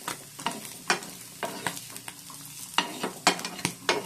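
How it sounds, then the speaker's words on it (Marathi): Paneer sautéing in a pan with red chili flakes and oregano, a spatula stirring in repeated close scraping strokes over a steady sizzle. "ह्याच्यामध्ये मी थोडेसे रेड चिली फ्लेक्स घालणार आहे आणि थोडंसं ओरिगॅनो आणि हे छान परत एकदा सॉटे करून घ्यायचं"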